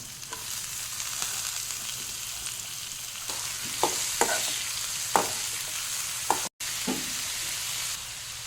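Kannada-style tempering for a sprouted horse gram bassaru frying in a pan, with a constant close sizzle and sharp intermittent scrapes and clinks of stirring, no voices.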